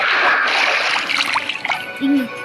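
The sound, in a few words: water splashing in Minecraft video game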